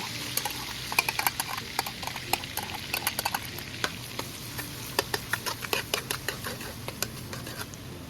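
Garlic tipped into melted butter in a pan for a Cajun seafood boil, giving a steady soft sizzle broken by a run of sharp clicks and scrapes from stirring, close and fairly loud throughout.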